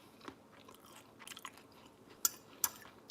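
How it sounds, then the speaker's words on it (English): Soft, close chewing of a pea salad with onion and cheese, with a few sharp crunches near the end rising above the quiet mouth sounds; no talking. "Y'all hear that crunch from the onion?"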